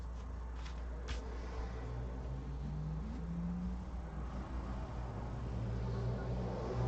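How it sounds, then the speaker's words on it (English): A car passing outside a house, a low rumbling engine hum that rises and shifts in pitch as it goes by, muffled through walls under a steady room drone. "I apologize for the car noise"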